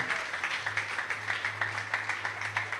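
A church congregation claps during a service, the applause coming in a rough, steady rhythm of overlapping hand claps with a low hum underneath and no speech on top.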